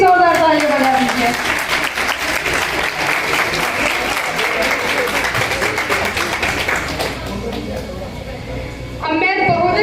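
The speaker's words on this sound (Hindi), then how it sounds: "तो आप एक बार बच्चों के लिए प्लीज जोरदार ताली बजा दीजिए।" An audience at a speech competition event claps loudly for the children, a thick wash of applause lasting most of the clip, with a voice speaking over the start and again as it fades.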